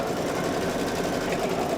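An embroidery machine sews the placement line for batting on an appliqué design, a steady, close, dense mechanical whir of rapid stitching with no pauses.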